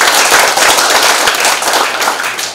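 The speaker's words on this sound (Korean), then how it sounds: "박수로 하겠습니다." Members at a family clan's annual general meeting clap together in approval, a loud close burst of hand claps with individual slaps audible, tapering slightly toward the end.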